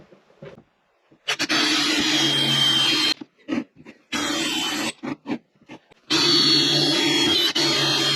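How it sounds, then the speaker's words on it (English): A power drill whines loudly in three long bursts with short pauses between them, drilling parts off during a 1988 Honda CR250 rebuild. "So we'll drill the rest of them off"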